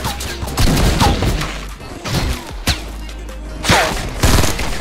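Shotgun and other gunfire in Fortnite sounds in repeated loud, close blasts and bursts spread across the moment, with game sounds layered around them.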